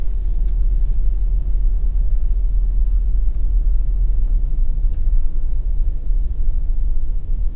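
A car drives along a road in St. Elizabeth, Jamaica, after hurricane damage, giving a steady, loud low rumble of engine and tyres from inside the vehicle throughout, with no talk.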